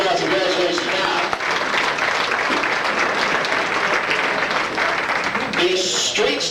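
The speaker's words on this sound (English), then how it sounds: "Mr. and Mrs. Bobby Bill, give a nice round of applause." Enthusiastic applause from a crowd at an auto racing fan club banquet of champions, steady clapping for several seconds while a voice speaks over it.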